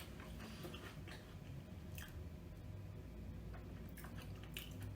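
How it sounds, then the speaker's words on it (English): Crunchy Greek koulourakia milk cookies flavoured with orange being bitten and chewed up close, giving a quiet, continuous crunching with a few sharper bites and no talking. "So they are biscuity, got a bit of a crunch to them."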